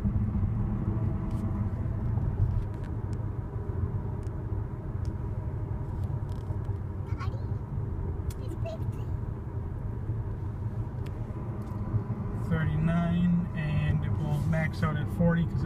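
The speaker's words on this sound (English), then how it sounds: "now it's going to follow the car in front of us and bring us up to a matching speed with the traffic aware cruise control" A Tesla Model S on traffic aware cruise control speeds up to match the car ahead, giving a soft, steady road and tyre rumble inside the cabin with a voice talking over it.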